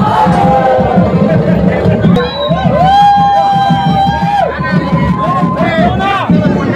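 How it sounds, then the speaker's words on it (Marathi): A crowd of pilgrims files through the Ekvira temple, making loud, close chatter and general hubbub, with voices talking over the noisy throng. "कळेल तुम्हाला किती गर्दी आतपर्यंत चालली आहे ती."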